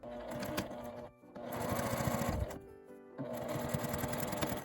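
Sewing machine stitching shut the turning opening of a small quilted nubi pouch made from fabric scraps, running in steady bursts with two short pauses between stretches of fast, close needle chatter.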